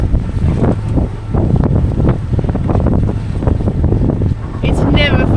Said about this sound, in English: It's never fun being on a sailboat when you have to motor like this